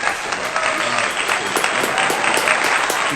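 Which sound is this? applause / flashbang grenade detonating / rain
applause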